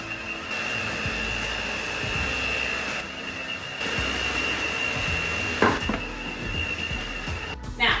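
An electric mixer whips eggs into cheesecake batter, making a steady, close motorized whir that holds throughout, with a few clunks and knocks near the end.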